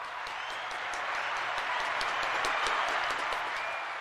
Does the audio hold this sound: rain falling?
no